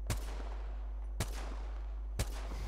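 Three sharp, spaced gunshots crack out in the video game Apex Legends, each with a short decaying tail, over a steady low drone.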